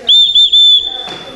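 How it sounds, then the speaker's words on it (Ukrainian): A replica of a 12th-century Central Asian whistle gives a loud, piercing, steady tone that dips briefly twice, then fades as faint noise follows. "копия со свистюльки 12 века, которая была в Средней Азии"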